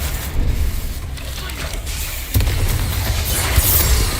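A Confringo spell explosion from a Harry Potter video game: a sudden broadband burst midway, followed by a sustained low rumble over busy game ambience.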